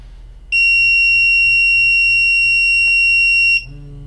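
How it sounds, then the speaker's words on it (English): A Sensit P400 portable gas detector runs its self-test, its sounder letting out a loud, piercing, unbroken electronic tone for about three seconds alongside a faint vibration-motor buzz, then stopping abruptly. "Then it will do its series of tests of the LEDs, along with the sounder and the vibration motor."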